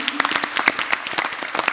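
An audience claps at a conference session on sport and decolonisation, a brief burst of close, crisp hand claps with a fairly even, scattered rhythm.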